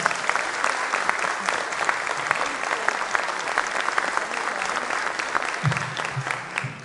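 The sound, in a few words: audience applause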